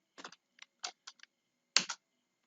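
A short burst of typing on a computer keyboard enters a search, with about eight crisp, close key clicks in uneven clusters and a firmer final press, like the enter key. The clicks sound against near silence.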